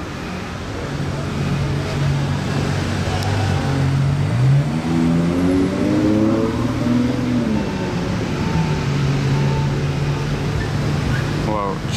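A Ferrari 812 Competizione accelerates past on a street in Monaco, its V12 note climbing through rising gear pulls and then easing to a steady drone, loud and fairly close.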